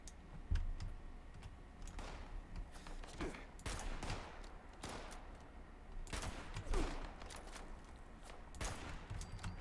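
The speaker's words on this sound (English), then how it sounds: "sorry, I got distracted by the shooting" Gunfire in a video game plays as quick crackling bursts and sharp single shots, rattling in irregular volleys with brief gaps, moderately loud and alone.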